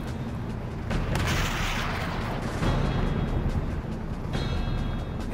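Enemy sniper gunfire in Call of Duty: World at War: loud, close gunshots and booming cracks, several irregular bursts over a dense battle din.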